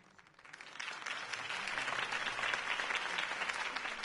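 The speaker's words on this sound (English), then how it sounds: "could have heard that applause" Audience applause following Harvey Dent's campaign speech swells quickly from quiet into sustained, dense clapping that holds to the end.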